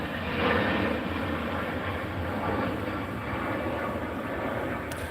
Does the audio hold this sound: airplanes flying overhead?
yes